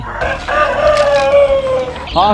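A rooster on a poultry farm lets out one long, loud crow close by, its drawn-out call filling most of the moment, with faint farm background around it.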